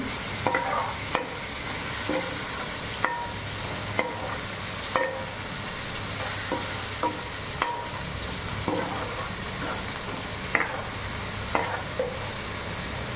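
Green chili and tomato pieces fry in a pan with a steady soft sizzle, while a spoon scrapes and taps against the pan in irregular strokes every second or so, with no talking.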